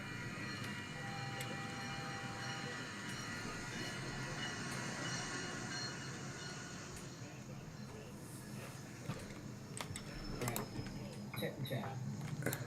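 A CSX local freight train rolls past with a continuous rumble and metallic clatter of wagons, a faint squeal rising toward the end, heard at low level as a steady wash of rail noise.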